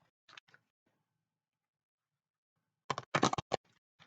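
Tarot cards being shuffled by hand give quiet riffling and flicking bursts, a brief patter early on and then a denser cluster of crisp slaps near the end, close and soft with no speech.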